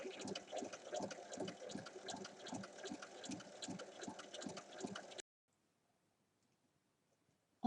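A sewing machine stitches all the way around the edge of fabric pieces for a round storage basket, giving a rapid rhythmic mechanical chatter for several seconds before stopping abruptly into silence, followed by a brief click at the end.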